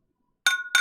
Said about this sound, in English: I'm lifting my glass and I'm saluting you.